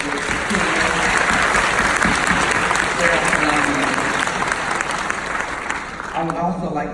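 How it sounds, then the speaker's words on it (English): Loud, sustained applause from an audience at a school keynote ceremony, dense clapping filling the room throughout, with voices audible beneath it and the clapping easing slightly near the end. "Can we give our leadership a round of applause for this?"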